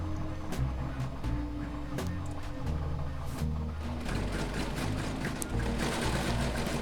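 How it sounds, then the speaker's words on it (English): A serger sewing machine stitching a tank top hums and chatters steadily at close range, its motor running in short, rhythmic bursts that speed up and slow, with no talking over it. "There we go. Gonna sew it now."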